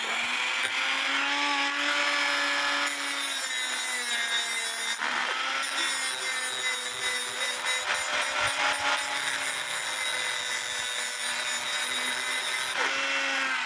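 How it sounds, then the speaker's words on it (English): A steady, close whine of a drill spinning a center punch, with scraping and rubbing of metal running continuously and brief dips in pitch, during repair of an 1880 Black Forest clock. "it's better if you can put it in a drill to rotate it"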